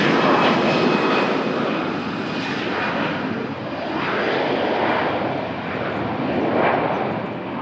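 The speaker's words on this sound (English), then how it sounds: "Airbus 320 departure" An Airbus A320 jet roars on its takeoff run at Lisbon Airport, a loud, steady engine rumble that swells and fades slightly as the aircraft passes.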